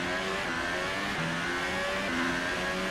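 A Formula 1 car engine in F1 2018 revs hard and steadily at high pitch, loud and continuous with no talk over it.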